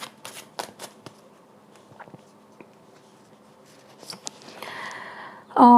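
Tarot cards being shuffled: a run of crisp riffling flicks and soft slaps close by, followed by a brief flurry of card rustling near the end.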